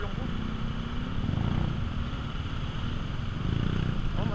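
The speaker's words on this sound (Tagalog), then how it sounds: "Pang off-road tong motor ko guys." An off-road motorcycle engine with large tires drones steadily and loudly while riding, with wind rush and road noise running through the whole stretch.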